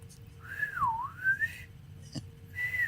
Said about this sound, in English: If I had teeth, I could whistle better.